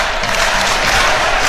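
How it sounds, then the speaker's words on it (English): A home crowd roars steadily at a Latvia versus Wales Euro 2024 qualifying football match, a dense, loud wash of many voices rising without pause and with no distinct speech. "Home crowd responds."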